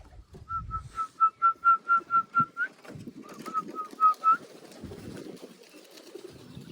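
Pigeons coo in a run of evenly spaced, repeated notes, a short pause, then a second shorter series, over a quiet rustling background.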